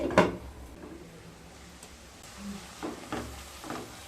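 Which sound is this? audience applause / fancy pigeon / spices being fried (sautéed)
spices being fried (sautéed)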